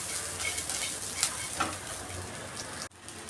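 Biryani masala fries and sizzles in a pan, a steady hiss broken by a few scraping stirs of a spoon against the pan.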